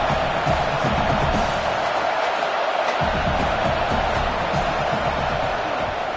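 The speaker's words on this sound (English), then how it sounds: "This crowd trying to do its part to get inside the kicker's head." A football stadium crowd roars loudly and continuously as a field goal unit lines up, a dense, far-spread wash of cheering and noise with no break.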